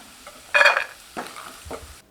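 Peanuts roast in a little oil in a pan over a medium flame, giving soft sizzling and a few scraping stirs, close up and quiet.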